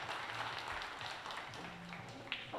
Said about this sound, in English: So we just hear a round of applause in the background there.